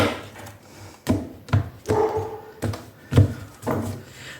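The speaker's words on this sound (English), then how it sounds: "he's just come back from his walk and he's barking, exercising his lungs" A dog back from a walk barks repeatedly indoors, loud sharp barks in an uneven series with a few whimpering yips between them, close and with no voices over it.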